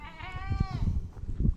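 A goat bleats once in Saudi Arabia, a wavering nasal cry up close, followed by low rustling and faint background noise.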